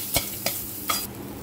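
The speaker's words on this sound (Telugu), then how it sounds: "ఇప్పుడు ఈ వేడి కళాయిలోని మనం అల్లం చెదగొట్టుకొని వేసుకున్నామండి" Crushed ginger dropped into a hot kadai for onion-less sambar sizzles softly, broken by three sharp, close scraping stir strokes.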